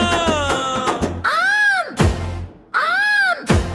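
A voice imitates a cow, giving two long rising-and-falling moos after a short burst of other sounds.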